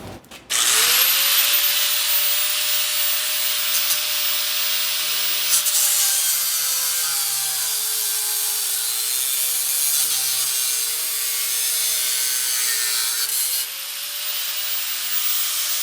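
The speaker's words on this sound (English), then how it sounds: "Now I'm going to cut it off about right here and just modify it so we can make it work." A power tool cuts through a metal bracket during fuel and exhaust work on a 1926 Oakland car, giving a loud, continuous high grinding whine that stays steady for about thirteen seconds and then stops abruptly.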